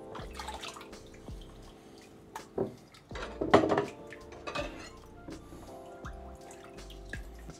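Dishes being washed by hand in a sink of soapy water, with clinking plates and cutlery, dripping and splashing water, and a louder clatter midway. The sounds are close and irregular.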